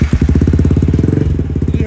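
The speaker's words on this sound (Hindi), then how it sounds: "ये है बाइक स्टार्ट होने के बाद R1M का एग्जॉस्ट है" A Yamaha R15M motorcycle converted to look like a BMW S1000RR idles just after starting, its exhaust popping in a fast, even, loud close-up burble with no talking.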